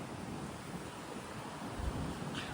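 A west wind blows hard during a powerful thunderstorm, a steady roaring rush of broadband noise buffeting the microphone throughout, with no voices.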